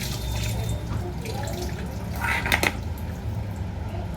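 Cut tomatoes rinsed under a running kitchen tap, a steady close stream of water with light clatter from dishes and a few brighter splashes near the middle.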